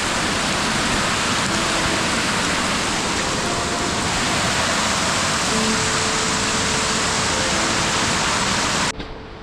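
A forest stream in heavy rain, crossed by a dammed section on the Panhala to Vishalgad trail via Pawankhind, makes a loud, continuous rushing hiss of water and downpour that fills the whole stretch and ends abruptly.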